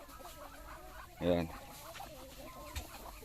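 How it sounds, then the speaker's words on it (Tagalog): A rooster, one of two fowl at a Philippine farm thought to be fighting with a turkey, gives a single short loud squawking cluck, with background noise and someone speaking briefly. "Naglalaban siguro tong dalawang hari ng manok at pabo natin mga idol"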